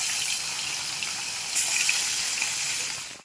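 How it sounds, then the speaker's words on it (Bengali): Four whole small charapona fish frying in hot oil, a steady dense sizzle with a brief louder crackle burst midway, continuous and close with no voices. "তেল গরম হয়ে গেছে মাছটাকে দিয়ে দিচ্ছি চারটে মাছ আমি দিয়ে দিলাম"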